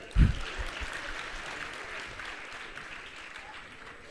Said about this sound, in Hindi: एक बार अपने लिए ताली तो बजा लो।